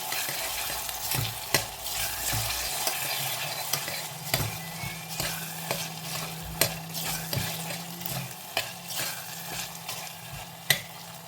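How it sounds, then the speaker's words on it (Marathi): Ginger, garlic, green chilli and coriander paste sautéing in oil, a soft steady sizzle with frequent spatula clicks and scrapes on the pan, plus a low hum partway through, close up with no voices. "ही देखील आता आपण तेलावर परतून घेऊया."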